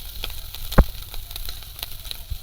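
Oil sizzles softly in a wok after prawns have been fried, a low crackling hiss broken by one sharp pop.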